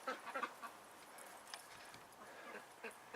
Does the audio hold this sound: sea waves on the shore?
no